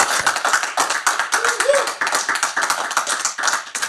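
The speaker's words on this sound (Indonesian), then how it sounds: "tepuk tangan buat Bung Helmi Yahya." Studio audience applause for a guest arriving on an Indonesian talk show, a steady patter of many hands clapping at moderate loudness, with some brief voices mixed in.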